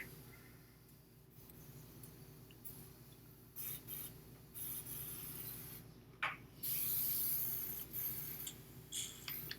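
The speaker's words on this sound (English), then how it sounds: "I'm cleaning up my airbrush" An airbrush being cleaned gives faint, close hissing spray bursts and rubbing, scraping sounds that come and go irregularly, growing louder toward the end.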